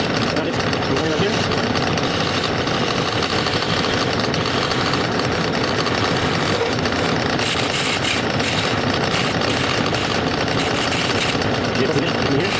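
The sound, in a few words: wood lathe turning a chess piece with a small gouge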